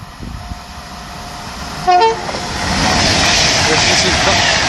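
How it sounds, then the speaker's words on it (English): A Virgin Trains service to Glasgow Central passes through Acton Bridge. A brief horn toot sounds, then a loud broadband rushing roar builds and holds as the train goes by close at hand. "Passing through now, we have a Virgin Trains service to Glasgow Central"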